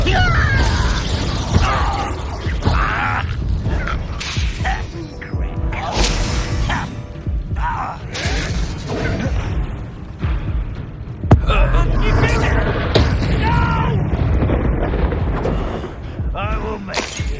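Dense, loud game combat in Hogwarts Legacy, where the Confringo fire spell explodes amid repeated blasts, crackles, shattering hits and mechanical clatter that carry on nonstop with little pause.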